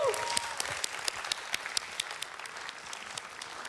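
A crowd applauds at the GT World Series Nations Cup award ceremony in Montreal, steady clapping with scattered sharp claps and a few whistles, moderately loud and continuous.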